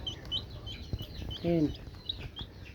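An incubator-hatched chick peeps in short, high chirps while being fed, with a brief brighter call midway, mixed with a person's soft voice and small handling noises.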